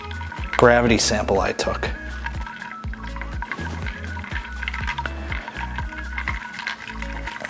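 Starter wort for a NE IPA beer brew pours and splashes briefly up front, then a rhythmic pulsing hum carries on while a person talks.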